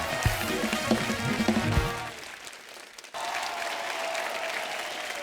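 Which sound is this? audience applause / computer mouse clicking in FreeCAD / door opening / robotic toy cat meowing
audience applause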